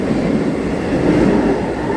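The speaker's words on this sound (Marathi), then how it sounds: "इथे एक लोकल ट्रेन आणि आम्ही अराईव्ह करत आहे मानखुर्द रेल्वे स्टेशनला" A Mumbai local train on the Harbour line rumbles steadily as it pulls into Mankhurd station, a loud, continuous low roar of wheels and carriage noise with faint rhythmic clatter and no voices.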